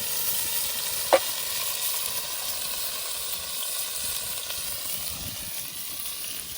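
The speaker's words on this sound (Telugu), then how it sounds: "పచ్చి మసాలాన్ని బాగా పచ్చివాసన పోయేంత వరకు వేయించుకోవాలి." Green masala paste of chilli, coriander, ginger, garlic, cinnamon and cloves frying with golden onions for village-style green chilli chicken, an even close sizzle and hiss with one brief clink early on and no voices.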